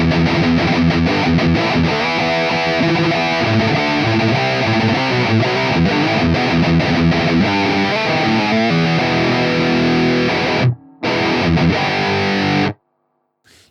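Electric guitar played through an Audified Multidrive Pedal Pro set to a Boss Metal Zone MT-2 emulation into an amp, loud and heavily distorted with chugging riffs, then briefly dropping out before cutting off near the end.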